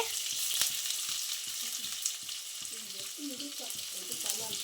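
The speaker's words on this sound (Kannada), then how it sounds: "ಈರುಳ್ಳಿ ಈಗ ಹಾಕಿದ್ದು ಈಗ ಈರುಳ್ಳಿ ಫ್ರೈ ಆಗಿದೆ" Onions fry in hot oil in a pan for egg rice, a steady soft sizzle with occasional stirring scrapes, close and fairly quiet.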